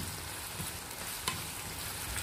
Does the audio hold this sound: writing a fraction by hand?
no